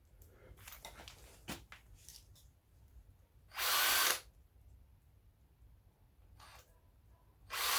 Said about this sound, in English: That drill is blunt.